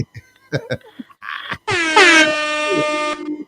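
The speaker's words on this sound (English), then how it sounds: "Air horn." A loud air horn blares for about a second and a half, preceded by a few short thumps and a brief hiss.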